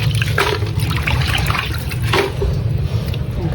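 Water gurgles and trickles steadily through a leaf-clogged roof drain after a super typhoon, close and continuous, with no voices.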